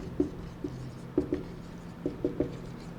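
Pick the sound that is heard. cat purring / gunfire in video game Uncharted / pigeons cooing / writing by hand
writing by hand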